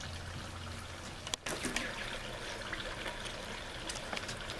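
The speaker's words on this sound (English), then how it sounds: "And now we're going to fill this up with water." Cold water from a garden hose trickles and pours into a garden sprayer, a continuous splashing stream with a brief sharp knock partway through and some bubbly gurgles after, fairly close and without talk.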